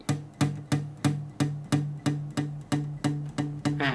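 Guitar fourth string plucked repeatedly while the muting hand slides back along it, a steady series of about thirteen short thumping notes, each decaying quickly, close and fairly quiet with no talking.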